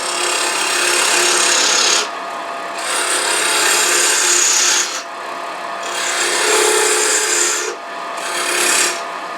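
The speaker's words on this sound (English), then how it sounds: "I'm just going to take a peeling cut, get rid of some of the wood down here." A woodturning lathe takes a peeling cut on a spinning piece of scrap wood, producing a loud, close, raspy shearing hiss in repeated passes of about two to three seconds, separated by brief lulls.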